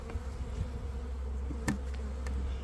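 Many honey bees buzz steadily and close by, a continuous droning hum with occasional louder passes and no talking.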